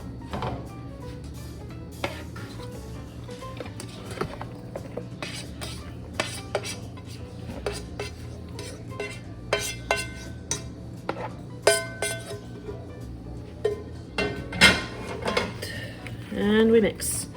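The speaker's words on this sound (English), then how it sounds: "Just stir for a couple of minutes and let the heat do its thing" A utensil stirs hot squash into a bowl of cheese and sour cream, giving repeated close clinks and scrapes against the dish, with soft mixing sounds building toward the end.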